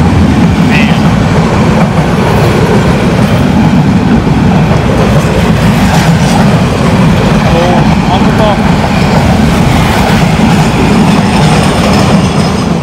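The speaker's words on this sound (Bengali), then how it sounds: "আমরা দেখতে পেলাম এটি সাগরিকা ট্রেন, সাগরিকা এক্সপ্রেস" The Sagarika Express rolls through the abandoned Naoti railway station, a loud continuous low rumble of wheels on track with faint rhythmic clatter, close by and sustained throughout.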